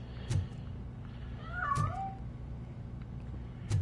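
A cat in the RoboCop video game gives a single drawn-out meow, moderately close, over low ambient hum with a few soft thumps before and after.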